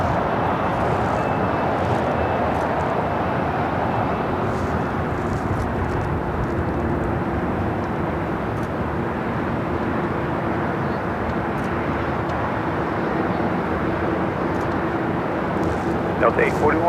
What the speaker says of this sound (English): China Airlines cargo, the 777 freighter now rolling down 25 right.